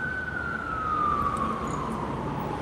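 A fire truck and ambulance siren sounds at a distance, a single sustained wailing tone slowly falling in pitch over a continuous urban background hum.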